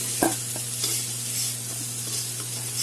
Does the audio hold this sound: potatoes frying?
yes